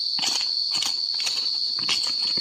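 Loud, dense cicada buzzing in a Chiang Mai forest, a steady high drone swelling in pulses roughly every half second, close and continuous.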